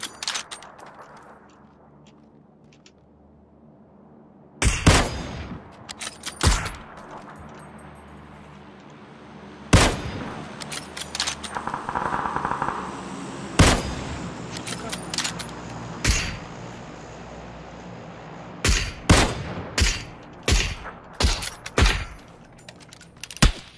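Gunfire from the PUBG battle royale game on the Erangel map, a string of sharp, loud shots scattered over the clip, some fired singly and some in quick bursts, heard over a low background hum.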